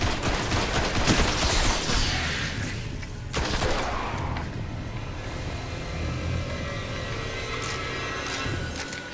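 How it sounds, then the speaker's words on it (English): Rapid automatic gunfire from a machine gun in the shooter game Destiny, dense and loud through most of the stretch with a steady rumbling backdrop and sharp bursts, no voices. "I have a machine gun for a reason."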